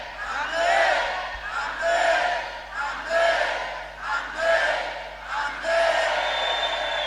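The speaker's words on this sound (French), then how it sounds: "Encore les cris de joie." A church congregation erupts in waves of joyful shouting and cries, many voices rising and falling together in loud bursts that fill the hall.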